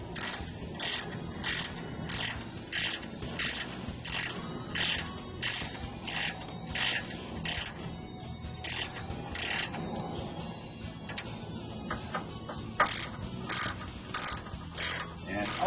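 Socket wrench ratcheting a brake caliper bolt on a 1996 K1500 Cheyenne, rapid clicking bursts repeated in short rhythmic strokes with brief pauses, close and fairly quiet.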